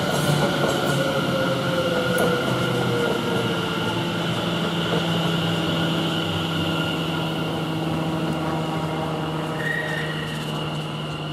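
A train idles and moves at Chelmsford railway station, with a steady mechanical rumble, a sustained electric whine and a brief squeal of wheels later on, heard without talk.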